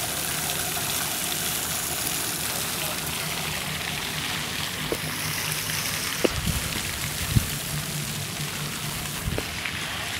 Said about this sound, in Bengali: এই ঝর্ণার পানি আসছে ছুটে ছুটে এবং গায়ে পড়ছে